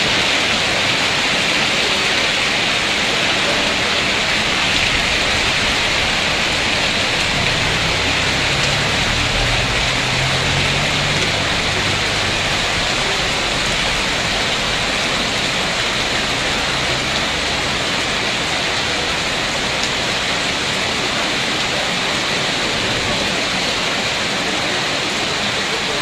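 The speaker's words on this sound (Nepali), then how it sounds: "यति ज्यादा पानी पर्छ।" Heavy rain pours steadily in Darjeeling Kurseong during a hail storm, a loud, dense, unbroken wash of noise throughout.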